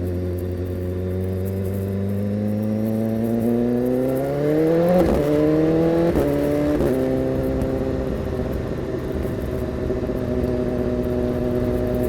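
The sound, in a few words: BMW S1000RR motorcycle with SC Project exhaust crackling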